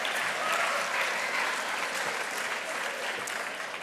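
Audience applause at the Brower Youth Awards ceremony, a continuous, even roar of many hands clapping throughout, moderately loud and filling the room with no pauses.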